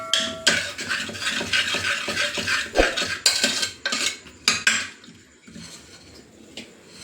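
A ladle clanks and scrapes inside a pot while cooked chandan batwa greens and chana dal are mashed, with repeated irregular metallic knocks and stirring sounds, close up and without speech.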